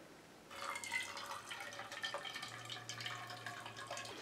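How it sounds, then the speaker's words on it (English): Liquid trickles and drips as it is poured slowly from a heavy pan into a cup, giving a soft, close, steady splashing that starts after a brief pause and continues without talk. "So I'm gonna try to pour it into this cup."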